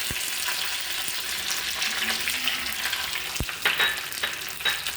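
Curry leaves hit hot coconut oil during a tempering and crackle and sputter steadily for several seconds, with sharp pops scattered through a continuous bright sizzle.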